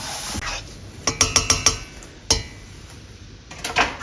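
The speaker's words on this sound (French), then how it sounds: "On va bien mélanger et ajouter du liquide." A spoon stirs apple pie filling with lemon juice in a bowl, giving a quick run of close metallic clinks and scrapes, then a single knock and a few more soft clinks near the end.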